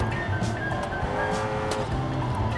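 A V8 car in the BeamNG.drive video game drones steadily under power, a continuous engine growl with a faint tire squeal running over it, with no talking.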